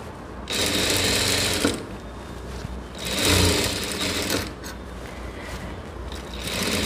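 A sewing machine runs in close, loud bursts while double stitching blouse sleeves, its rapid rattling hum starting and stopping several times with short pauses between runs.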